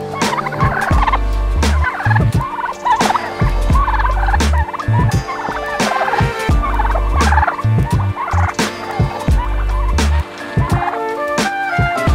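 Several turkeys gobble loudly and close by in a rapid, overlapping series of rattling calls that continue throughout, with no talking.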